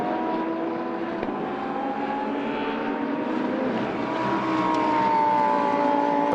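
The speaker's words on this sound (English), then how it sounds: "Through turns the Lamborghini." A Lamborghini GT2 race car drives through the turns at the Paul Ricard circuit, its engine a steady, loud droning roar that rises slightly toward the end.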